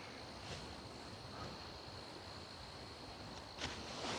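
Wind blowing outdoors at a precarious photography spot, a steady faint broadband rush with soft gusty swells and buffeting on the microphone.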